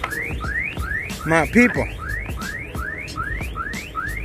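A car alarm whoops in a steady repeating pattern of rising tones, about ten cycles, loud and close outdoors, with a person speaking briefly over it partway through.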